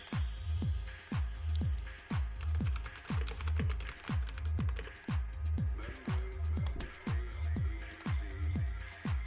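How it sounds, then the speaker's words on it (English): Steady, rhythmic typing on a computer keyboard in a quiet home work session, close and fairly loud, with regular clusters of key taps and thumps running throughout with no talk. "Yeah, you can hear the typing."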